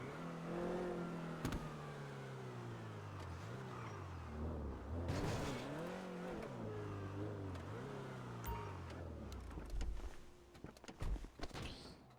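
Car engine in a video game revving and shifting pitch as the vehicle is driven and manoeuvred to park, fairly close, with a door-like thud partway through and the engine easing off near the end.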